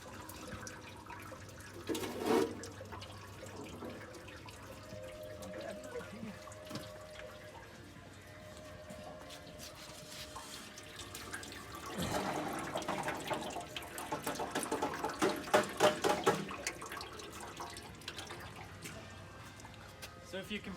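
Coolant leaks and splashes from a 2014 Ford Fusion, a wet trickling and dripping that swells midway, heard close under intermittent talking.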